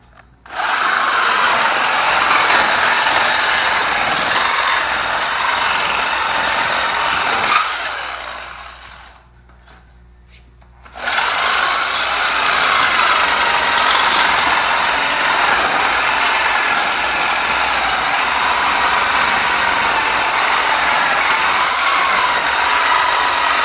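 A Sawzall reciprocating saw cuts through the rotten frame of a motorcycle, a loud harsh buzzing rasp that runs for about seven seconds, stops briefly, then resumes steadily for the rest of the clip.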